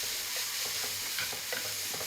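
Noodles stir-frying in a home kitchen pan, a steady bright sizzle with light scraping and tossing strokes recurring every half second or so, close and continuous without any talk.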